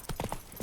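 Roach's hooves in The Witcher 3 land in a fast, close cluster of galloping thuds, several quick beats within a fraction of a second.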